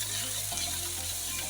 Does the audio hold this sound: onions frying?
yes